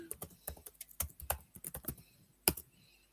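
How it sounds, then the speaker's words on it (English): Brisk typing on a computer keyboard, a run of sharp, close key clicks in uneven bursts with one louder clack near the end, no voices over it. "Brad's typing."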